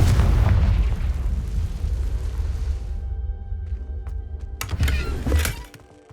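A Confringo blasting spell explodes in the Hogwarts Legacy video game, a loud booming blast with deep rumble that slowly fades, followed by a few sharp crackling bursts near the end.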